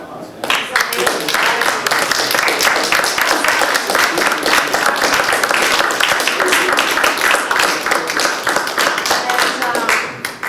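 A room full of people applauding after an artist talk on patterns from nature, dense sustained clapping that stays loud and steady for around ten seconds before tapering slightly at the end.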